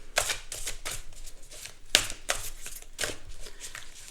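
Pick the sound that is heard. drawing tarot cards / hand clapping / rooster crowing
drawing tarot cards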